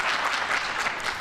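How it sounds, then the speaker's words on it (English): Audience applause for aldermen at a press conference, a brief burst of close, loud, dense clapping from a crowd. "give them a round of applause."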